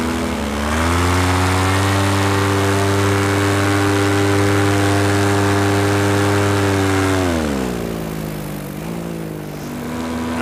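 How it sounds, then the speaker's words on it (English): A paramotor engine drones in flight over a meteor crater, running sluggishly. The loud, close propeller hum holds a steady pitch, then drops and sags before partly recovering. "Motor's running a little lethargic."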